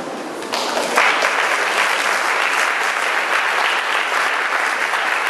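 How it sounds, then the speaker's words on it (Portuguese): A large crowd at a Catholic youth community's 40th anniversary gathering breaks into loud, sustained applause, the thick roar of clapping swelling after a brief start and staying strong and even throughout. "Uma salva de palmas forte para eles, agradecendo"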